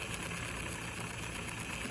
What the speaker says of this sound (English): it just sounds like a diesel idling